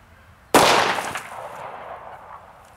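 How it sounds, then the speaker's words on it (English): One sharp, loud pistol shot, a 10mm or 9mm round fired at a cinder block outdoors, with a sudden crack and a long rolling echo that fades slowly over the next couple of seconds. "Then our second shot was here and it blew a bunch off the cinder block"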